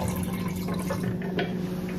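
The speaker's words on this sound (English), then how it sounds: "Almost forgot to fill up my water." Water runs steadily from a tap into a bottle being filled, a continuous gurgling flow at close range with no talking.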